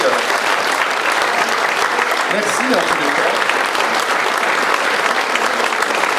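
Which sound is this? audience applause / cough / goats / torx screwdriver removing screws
audience applause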